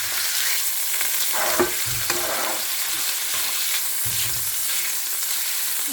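A steak sears and sizzles in a hot pan with its fat warming through, a steady frying hiss broken by a few louder crackles and stirring bumps, close and with no talking.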